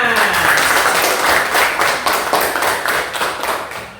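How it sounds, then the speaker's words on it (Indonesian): An audience claps steadily in a classroom for about four seconds, dense applause with a few taps and faint voices mixed in. "Ya, tepuk tangan."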